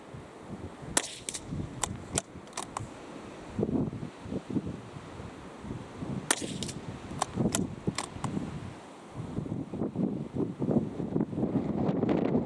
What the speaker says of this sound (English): I've got a fair bit of wind to be contended with